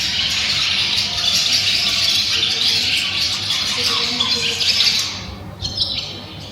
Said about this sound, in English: all of these beautiful birds just nesting in here and flying about